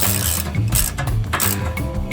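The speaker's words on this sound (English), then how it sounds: "Now let's finish tightening these boys up." Ratchet wrench clicking steadily while tightening transmission mount bolts, fitting an Energy Suspension polyurethane mount on a T56 transmission; close, loud, rhythmic bursts of pawl clicks with no talking.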